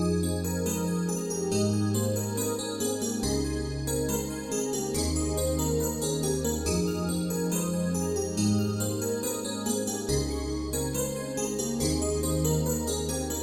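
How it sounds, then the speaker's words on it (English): A soft Roland JV1080 Delicate EP electric piano preset plays a gentle chord progression with a low bass line underneath, sustained and mellow, moderately quiet with no talking. "This is the Delicate EP from JV1080, and the piano sounds like this."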